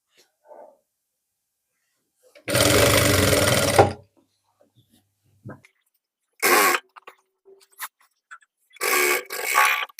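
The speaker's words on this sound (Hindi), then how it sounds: "एक पैर का मार्जिन लेकर सिलाई को लगाना है" A sewing machine stitching a shirt cuff, running in several loud close bursts of a few seconds each, separated by quiet pauses with faint handling sounds.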